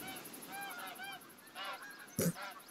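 Several geese honk in a loose series, clear and fairly close, with a brief thump partway through, in the video game The Hunter: Call of the Wild.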